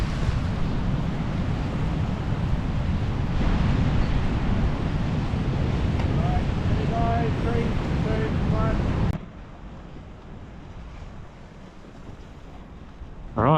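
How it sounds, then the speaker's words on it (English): Stormy sea waves roar and wash in a loud, continuous rush mixed with heavy wind buffeting, then drop to a quieter wash, with a voice faintly present. "She's pretty stormy, check out the waves"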